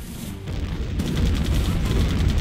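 Tank cannon fire aimed at a watchtower in a Cold War real-time strategy game, heavy booming shots layered over rumbling battle noise, loud and continuous for a couple of seconds.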